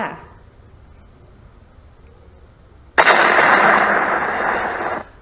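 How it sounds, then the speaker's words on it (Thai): An explosion sound effect opens with a sudden, loud blast that cuts into near silence, then carries on as a dense roaring rumble for about two seconds before stopping abruptly. "เสียงนี้เป็นเสียงระเบิด"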